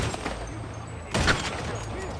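Unsilenced gunshots ring out in a stealth video game, a short burst of loud cracks near the middle of the clip, with game sounds and background noise around them.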